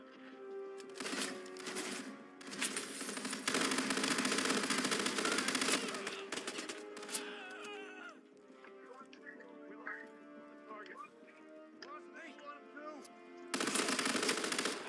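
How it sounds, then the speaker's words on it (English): Video game gunfire, rapid automatic bursts and single shots crackling loudly in dense volleys, then thinning into scattered shots under game sounds before a final loud burst. "Sorry, I'm just shooting everyone wearing black."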